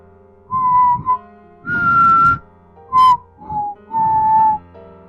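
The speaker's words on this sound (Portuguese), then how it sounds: "O assobio começou." Five separate whistled notes, each a short held tone with pauses between, close and clear in an otherwise quiet room, with an eerie feel.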